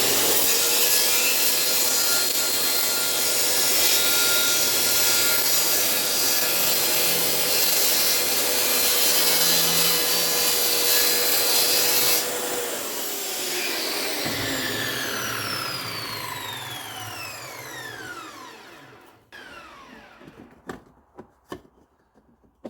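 A power saw cuts a wooden template for a car fender trim job in a workshop, with a long, loud, steady whine of blade through wood that shifts pitch midway and ends as the tool spins down, followed by a few sharp knocks.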